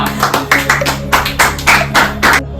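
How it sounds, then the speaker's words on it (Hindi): Studio audience applause on the Kaun Banega Crorepati game show, a steady wave of many hands clapping close and loud, with rhythmic peaks before cutting off at the end. "बहुत है, बहुत बढ़िया तालियां"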